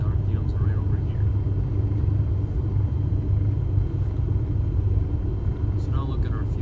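Aircraft engine in Microsoft Flight Simulator 2024 idling at about 700 RPM, a deep steady low rumble throughout, with a voice talking over it.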